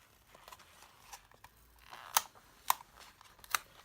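Scissors snip out a flower shape, giving a few quiet, scattered cuts that build to three sharper snips near the end, close and faint.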